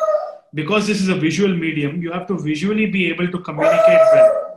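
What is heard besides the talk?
dog barking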